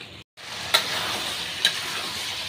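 Soybean chunks sauté with spices in a pan for a vegetarian dish, giving a steady close sizzle with two faint scraping stirs of the spoon against the pan.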